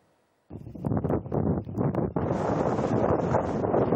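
Strong tornado wind of over 110 km/h buffets the microphone in loud, rough rushing gusts that begin abruptly and then roar continuously, with no voices.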